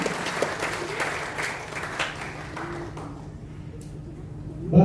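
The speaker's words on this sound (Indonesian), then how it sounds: "Kita tepuk tangan untuk Tuhan Yesus." Congregation applauding at an opening worship service of a church working meeting, a broad wash of clapping from the whole room that fades gradually, with a voice rising at the very end.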